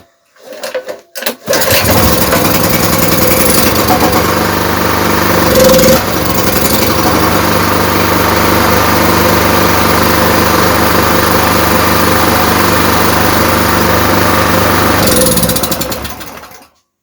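A small petrol generator of up to 3 kW with a fuel-flow fault is pulled over a few times and catches. It then settles into a loud, steady close-up running drone with a brief wobble partway through, then cuts off.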